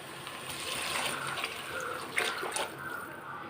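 Water poured into a pot to cook rice for a sweet palau, a soft continuous trickling and splashing stream, close but quiet, swelling briefly near the end.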